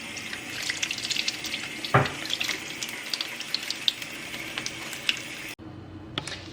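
Tap water runs steadily into a sink while shrimp tails are rinsed, a continuous close hiss with small splashes that cuts off abruptly near the end, leaving a few faint drips.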